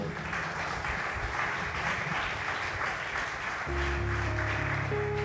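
Church congregation applauding for Christ during a sermon in Santa Marta, a dense steady wash of clapping that continues throughout, with a low sustained music tone joining near the end.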